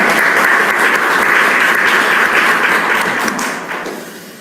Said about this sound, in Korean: 다시 우리 참어머니께 감사의 박수 보내드리겠습니다